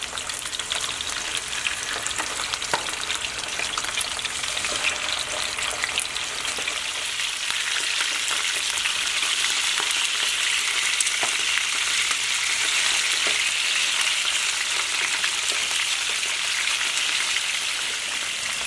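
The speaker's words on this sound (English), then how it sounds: "once you get it into the pan and you cook it for about 2 to 3 minutes on each side" Fish fries in a hot pan while cooking a Thai fish dish, sending up a steady, loud, crackling sizzle with scattered pops that continues unbroken and close.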